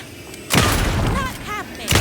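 Gunfire in the video game Alan Wake 2: a loud broadband blast at mid-clip sustains with a ringing tail, then a second sharp shot hits near the end, over a quiet game ambience.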